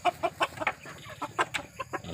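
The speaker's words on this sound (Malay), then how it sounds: "Ni ayam kampung." Village chickens (ayam kampung) cluck in a quick, uneven series of short calls close by, some sharper notes standing out over a faint outdoor backdrop with no talking.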